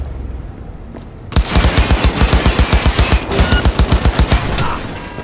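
Automatic gunfire in Cyberpunk 2077 on PS4: after a quiet start, a loud, rapid run of about twenty evenly spaced shots, close and punchy, fading into a trailing rattle.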